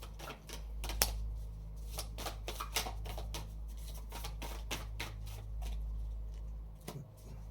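Oracle cards being handled and shuffled, a quick series of crisp flicks and riffles repeating close by over a steady low background hum, with no talking.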